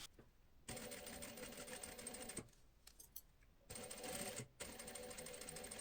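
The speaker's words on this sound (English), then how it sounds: "And now I'm going to stitch 1 millimeter away from here to here." A sewing machine stitches leather for a double welt pocket, running in steady, faint whirring bursts with short pauses between runs and no talk.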